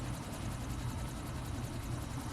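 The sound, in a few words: helicopter in Quantum Break video game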